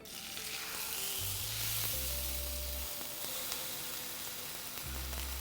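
A coho salmon fillet lies skin side down in an oiled pan and gives a loud, close, continuous hiss of hot oil, with a faint low hum running underneath.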